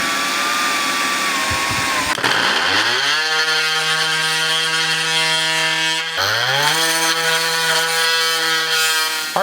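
A power tool whines at high pitch as it cuts a small coin slot through veneer-covered cardboard, with the motor pitch dropping and rising again partway through, loud and close with no talk.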